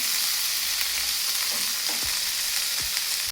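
Cooked carrots and French beans with pepper are sautéed in a pan, making a constant bright frying hiss with occasional scraping strokes of a spatula, near and fairly loud, no speech.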